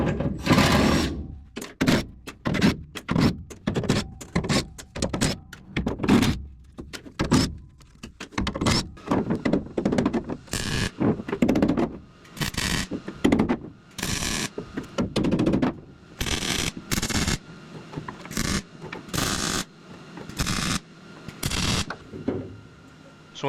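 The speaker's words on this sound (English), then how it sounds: "So in stitch welding here," Stitch welding on a Datsun 280Z floor pan gives short, repeated crackling bursts of the welder, each separated by brief gaps, close and fairly loud in an irregular on-off rhythm.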